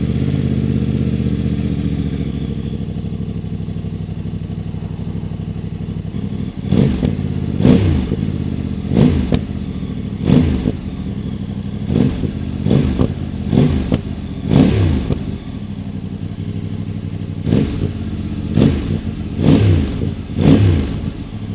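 Voge DS 800 X Rally motorcycle fitted with a Scorpion exhaust, baffle removed, idling steadily before a series of about ten sharp throttle blips from roughly seven seconds on, each rising and falling quickly, close and loud.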